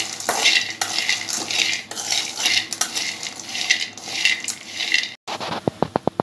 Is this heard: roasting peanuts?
yes